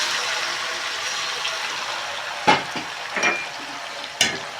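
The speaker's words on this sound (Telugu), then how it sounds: "బాగా ఆయిల్లో ఫ్రై కావాలి ఇది." Chicken frying in oil with masala gives a steady close sizzle, broken by a few sharp scraping stir strokes.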